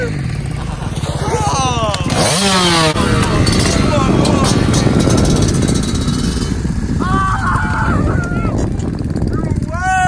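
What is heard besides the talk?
dirt bike engine revving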